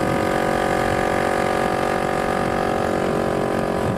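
The custom-built motorcycle's engine idles in a steady, continuous, close rumble with an even, unbroken drone throughout and no voices.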